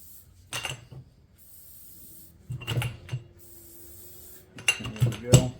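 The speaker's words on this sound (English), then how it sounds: "I'm going to go ahead and spray them with a little penetrating oil." Aerosol can of penetrating oil sprayed in a few short hissing bursts onto the U-joint retaining clips of a 2001 Ford Expedition front driveshaft, close up with scattered handling noises between.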